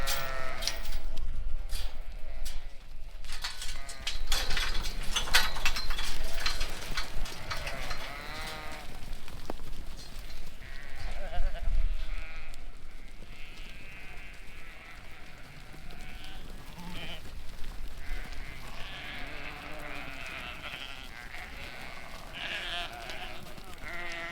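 A flock of sheep ewes bleats repeatedly at a farm on the first day of grazing, with overlapping calls near and farther off over outdoor background noise, and a person speaks briefly among them.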